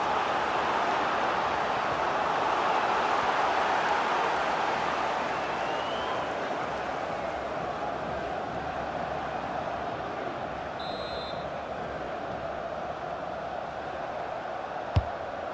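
Steady wash of a large stadium crowd in the FIFA 23 football game during a UEFA Europa League group-stage match, a constant broad roar with a rising murmur of anticipation and a sharp click near the end.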